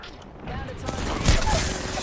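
Video game gunfire, a short burst of rapid shots that swells to a loud crack near the middle, with a voice speaking over it.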